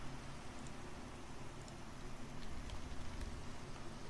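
Steady rain falling in Minecraft, a constant soft hiss of droplets filling the scene at moderate level with no talk over it.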